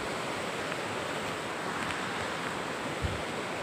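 A steady, dense rush of falling water from the Alkudar waterfall fills the air, constant and fairly loud with no pauses.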